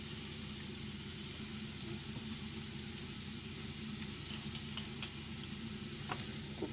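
Steady, low-level sizzle of sauce cooking in a pan, an even hiss with occasional small pops and stirring clicks, close by and without speech.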